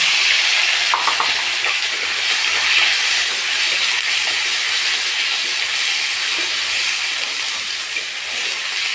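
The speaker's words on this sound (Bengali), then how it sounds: "সব কিছু ভালো করে ভেজে নেবো একসাথে" Taki fish sizzling loudly in a pan with onion, tomato and green chilli for a fish bharta, a steady, dense frying hiss that runs unbroken throughout, close by, with no voices.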